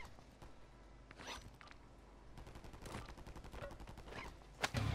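Gunfire in the Call of Duty video game: scattered shots and bursts ring out through a dense, noisy battle mix, with a sharp loud crack near the end.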